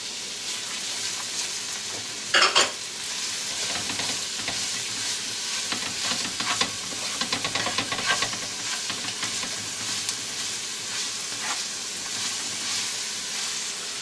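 Onions frying in a pan with garlic for pancit bihon, a steady close sizzle with scraping stirs and a sharp clatter of the utensil early on, no voices.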